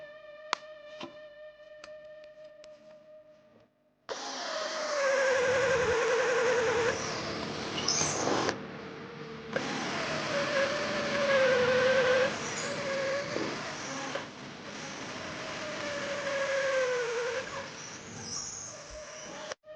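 A power drill fitted with a wood drill bit bores holes in wood, its motor whining and rising in pitch through several long drilling bursts separated by short pauses. A few faint tonal beeps come first, before the drilling begins.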